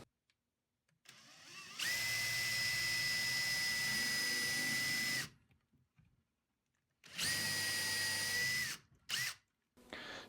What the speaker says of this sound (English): make sure I put in 2 screws, one on either side, make sure it's deep enough for that screw to grip